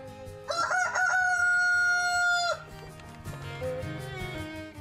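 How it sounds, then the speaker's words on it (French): A farm rooster gives one loud, drawn-out crow lasting about two seconds, close by, with background music and low farmyard ambience continuing before and after. "Voici Henri, le coq de la ferme d'Ozanne"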